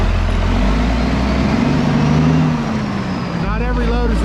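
A truck pulling a trailer drives off from a yard, with a loud, steady low diesel rumble that rises and shifts pitch as it pulls away. A person speaks over the engine near the end.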